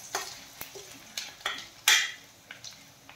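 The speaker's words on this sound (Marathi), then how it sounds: "आता यामध्ये आपण थोडासा कढीपत्ता टाकून घेऊयात, तमालपत्र थोडंसं परतून घेऊयात।" Onion, curry leaves and bay leaf sauté in a pan as a spoon stirs, with sharp metallic scrapes and clinks over a faint, steady sizzle.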